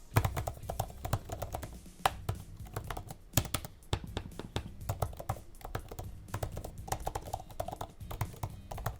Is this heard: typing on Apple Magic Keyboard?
yes